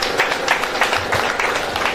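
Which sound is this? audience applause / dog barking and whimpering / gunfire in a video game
audience applause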